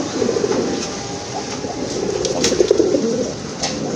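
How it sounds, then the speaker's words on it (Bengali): Pigeons coo in low, overlapping murmurs from a pair of colourful, plump fancy pigeons of the punky fat type, a steady close-up burble with a faint rumble beneath, and no one speaking. "খুবই সুন্দর এক জোড়া কালারফুল কবুতর"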